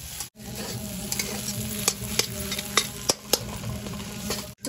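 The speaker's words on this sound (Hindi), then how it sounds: "अब इसे 2 से 3 मिनट तक और भून" Spiced potato samosa filling fries in a pan while a utensil stirs it, a continuous soft sizzle broken by repeated sharp scraping taps close to the microphone.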